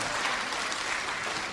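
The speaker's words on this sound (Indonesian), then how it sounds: "tepuk tangan buat istri yang sempurna" Audience applause during an Indonesian religious lecture, a steady dense wash of many hands clapping throughout, loud and continuous with no talk.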